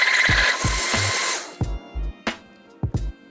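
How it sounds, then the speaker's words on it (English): A kitchen blender whirs loudly as it blends meshil, vinegar, water and other kimchi-water ingredients, then cuts into a series of short, sharp motor pulses with brief gaps between them. "And just blend them."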